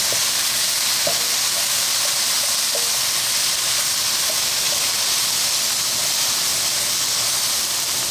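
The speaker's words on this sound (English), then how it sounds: "as you can see, they're sizzling pretty good now" Steady, dense sizzling of vegetables frying in a hot pan for pepper steak, a continuous crackling hiss with a few small pops, no voices.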